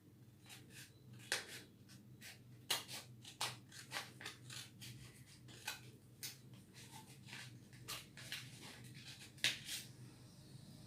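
Scissors cut a sheet of paper along its center line in a quiet room: a rhythmic run of crisp snips at roughly one-second intervals, close and clear, with no talk.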